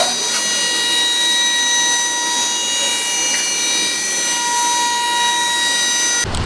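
A vehicle lift raises a Toyota Tacoma in a shop, giving a steady, loud, high-pitched electric whine with a constant hum that runs unbroken for several seconds and cuts off abruptly at the end.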